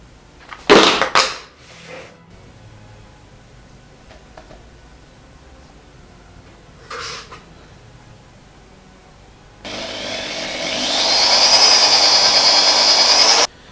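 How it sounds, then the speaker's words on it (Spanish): A power drill mixes a two-part compound for a cast: a few short knocks and clatters come first, then the drill whines loudly and steadily through the last few seconds. "A 2 lo mezclaremos aquí con el taladro y lo echaremos"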